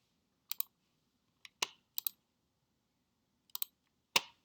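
Sparse, crisp computer mouse clicks sound close and quiet against near silence, some arriving singly and others in quick double taps, spread over a few seconds.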